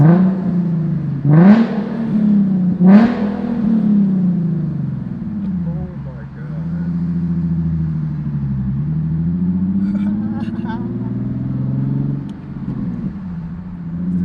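A Nissan 370Z Nismo fitted with a full Tomei Ti titanium exhaust, revved and pulling under an underpass, loud and close, with two sharp rising rev blips followed by a long droning rumble that swells and fades.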